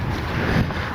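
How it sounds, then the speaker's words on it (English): Steady wind buffets the microphone with a constant low rumble and rushing hiss at an RC model jet flying field, fairly loud, with no other distinct sounds. "A little windy too."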